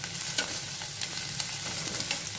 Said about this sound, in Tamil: இதையும் இது கூட சேர்த்து நல்லா வதக்கிடுங்க